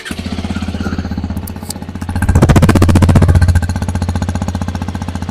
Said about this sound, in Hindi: मैं आपको जस्ट स्टार्ट करके दिखा देता हूँ, उसका साउंड सुन लेना गाइज।